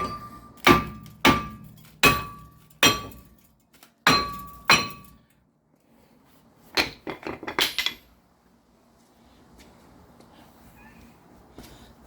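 A hammer strikes a rusted brake rotor on a 2013 Kia Soul with five sharp, ringing metallic blows, then pauses before a quick burst of lighter taps. Faint shop ambience follows.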